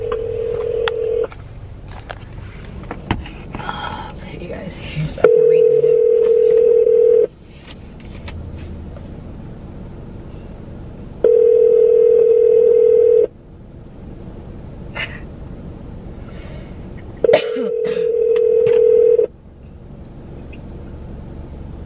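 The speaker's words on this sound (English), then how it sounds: "It rang several times on this end." A telephone call rings out over a speakerphone, with steady ring tones repeating in evenly spaced bursts of about two seconds and brief talk in a home between them.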